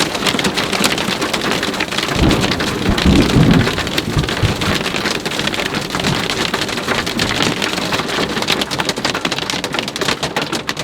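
Marble-sized hail in a mountaintop thunderstorm clatters densely and loudly on surfaces, a continuous hammering roar with a deep thunder rumble rising briefly early on.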